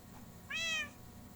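Single short cat meow rising and falling, heard indoors at moderate distance over a low steady background hum, with no talking.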